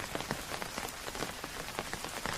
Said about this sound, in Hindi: वहीं सुभाष और विमल बाहर खड़े होकर बारिश देख रहे हैं।